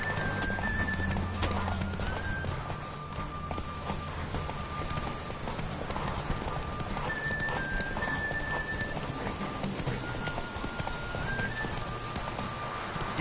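Galloping horse hooves from The Witcher Wild Hunt pound in a steady, rapid clip-clop rhythm, close and continuous, with faint whistling tones and a brief whinny in the mix.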